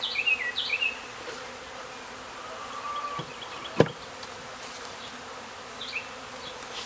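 Honeybees from a small, newly settled swarm hum steadily around their hive at close range, with a few chirping birds in the background and a sharp knock partway through.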